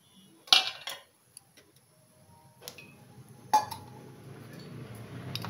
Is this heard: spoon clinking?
yes